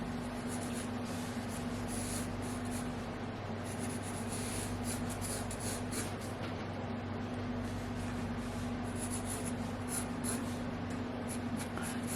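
Steady, soft scratching of a drawing tool moving across paper in continuous strokes, close and quiet over a constant background hum.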